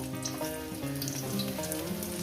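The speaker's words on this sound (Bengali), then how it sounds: "আমি দেখাচ্ছি আমি কী করে ভাজছি পটলগুলো" Pointed gourd (potol) fries in a pan with a soft, continuous sizzle, partly covered by background music playing over it.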